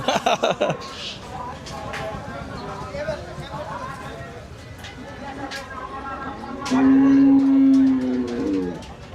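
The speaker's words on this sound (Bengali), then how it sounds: "গরু তো অনেক গরু আছে তো এখানে।" Cattle at a busy cattle market in Rajshahi, Bangladesh, with a loud, drawn-out moo near the end that rises over a constant din of crowd chatter and market noise.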